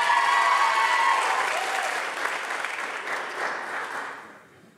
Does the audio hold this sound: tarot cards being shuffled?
no